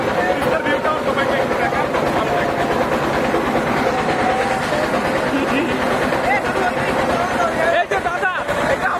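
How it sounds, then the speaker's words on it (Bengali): A train crosses the Teesta river bridge with a continuous loud rumble and rattle of wagons, and the clatter stays close throughout under crowd babble and nearby voices. "বিশেষ করে তিস্তার উপর দিয়ে বারবার যে ট্রেনটা যাচ্ছে"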